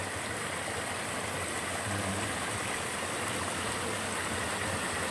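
Water runs low and steady at Tarias Falls, a constant broad rushing wash with no clear changes and no voices.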